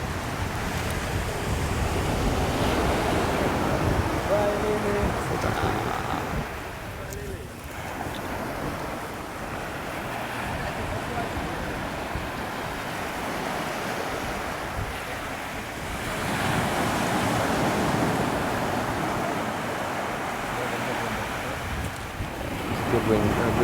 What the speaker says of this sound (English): Good wind, a good wave coming now.